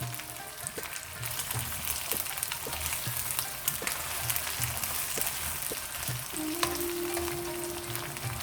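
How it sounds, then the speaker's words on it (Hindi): Okra fries in a pan for a dhaba-style masala bhindi, giving a steady, close crackling sizzle with occasional stirring clicks throughout. "भिंडी को मैं फ्राई कर लूंगी।"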